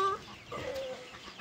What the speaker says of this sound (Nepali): यो चाहिँ लोकल कुखुराहरूलाई हेर्दै